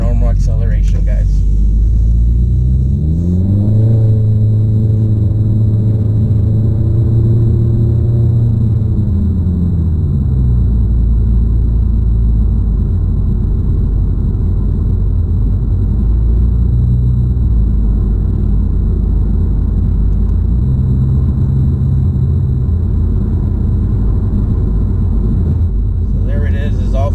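A 2018-2019 Honda Accord with a Thermal R&D exhaust accelerates normally, giving a loud, low droning exhaust rumble that rises in pitch, settles, then climbs briefly again, heard steadily from inside the car.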